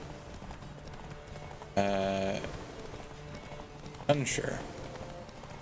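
Roach the horse in The Witcher 3 with hooves clopping faintly under game music, two bursts of a brighter harmonic sound, and a brief spoken line.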